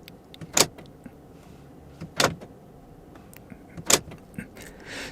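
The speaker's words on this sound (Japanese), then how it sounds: "クラウンクロスオーバーのドアロックとドアロック解除します。" Door lock and unlock of a Toyota Crown Crossover (AZSH35): three short, sharp clicks or chirps spaced about 1.5 seconds apart, fairly close and distinct over a quiet background.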